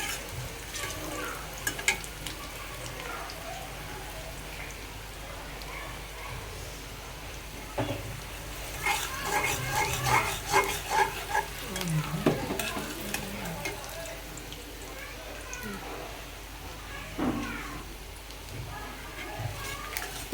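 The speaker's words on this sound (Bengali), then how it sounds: "এখানে আমি কড়াইয়ের ভিতরে পেঁয়াজ দিয়ে দিছি আর তেল দিয়ে দিছি" Onions sizzle in hot oil in a wok with bay leaves and whole garam masala, a steady close frying hiss with stirring scrapes throughout, while voices and children can be heard talking in the background.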